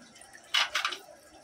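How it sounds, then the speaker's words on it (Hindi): Spiced masala water is poured into chicken curry in a cooking pot, giving a short, close liquid splash and gurgle lasting about half a second amid quiet kitchen background. "इसमें हम जो मसाले का पानी है वो डाल देंगे"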